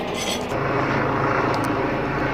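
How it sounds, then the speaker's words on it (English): A helicopter flies overhead above a fruit orchard, its steady broadband rotor and engine roar loud and continuous throughout, with no voices over it. "this helicopter will also disappear"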